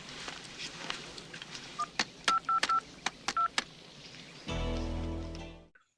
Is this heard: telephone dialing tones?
yes